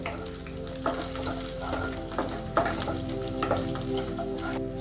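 About ten cashews fry lightly in a pan, a soft steady sizzle punctuated by small scrapes and taps of stirring, close up with no talking.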